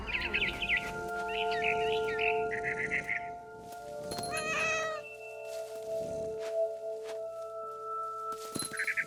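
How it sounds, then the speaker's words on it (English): A cat meows several times in the video game What Remains of Edith Finch, short repeated calls over a steady tonal hum, with faint bird chirps and a brief fluttering burst near the middle. "I was a cat."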